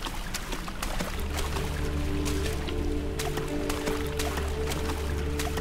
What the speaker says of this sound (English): Guys, I'm walking in water right now.